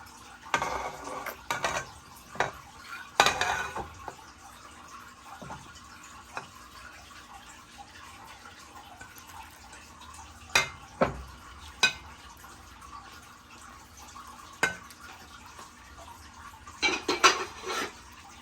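Marinated hilsa fish pieces go into a pan for a mustard and coconut bhapa, heard as scattered clinks and clatters of utensil against cookware with quiet gaps between, close and sharp, without talk.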